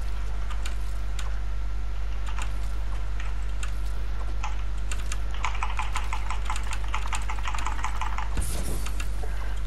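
Clicky computer keyboard typing during a Fortnite edit-map warm-up, steady clacks in bursts with a denser, rapid run of keystrokes toward the end, close and alone without talk.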